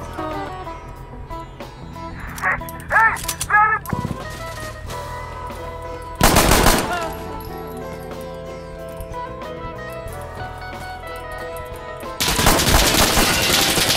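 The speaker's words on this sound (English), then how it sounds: "I shot him in the head twice" Gunfire in the tactical shooter Insurgency Sandstorm comes as scattered sharp shots, then two loud bursts of rapid fire several seconds apart, set against a steady background drone.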